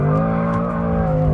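A Mercedes SL63 AMG or BMW M6's rear tyres squeal steadily while drifting under a loud engine drone, a sustained high-pitched screech through the short burst.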